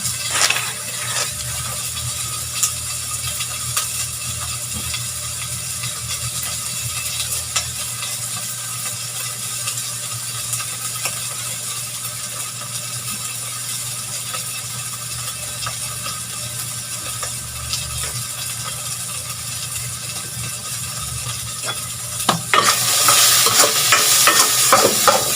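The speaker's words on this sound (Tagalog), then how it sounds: "Nuna ko lang yung daing para maluto-luto na siya." Dried fish fries in a pan for a monggo dish, with a steady close sizzle and frying crackle throughout, plus occasional scraping stirs. A brighter burst of sizzling rises near the end.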